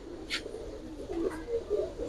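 Faint, close coos from Giribaz pigeons come as a short run of soft burbling notes in the second half, over quiet background noise with a brief click early on.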